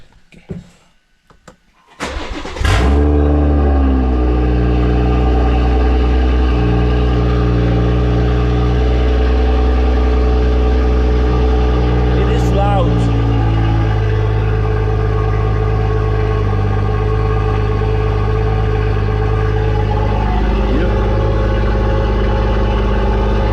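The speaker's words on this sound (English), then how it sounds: "let's do a cold start" A BMW M140i cold starts with a sharp crank and bark, then settles into a loud, steady, rumbling high idle that continues for about twenty seconds without talk.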